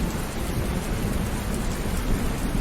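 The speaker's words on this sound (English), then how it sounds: "So if I try to like bomb anyone with like my like airplanes, we can't because it's raining." Steady heavy rain with low rumbling thunder fills a WWII strategy video game, a dense, continuous downpour at even loudness with no speech.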